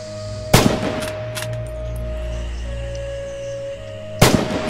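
Two loud, sharp rifle shots fired at downrange targets on a practice range in the video game Red Orchestra 2, a few seconds apart over a steady low hum.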